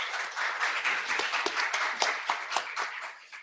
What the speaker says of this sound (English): We give them a big applause.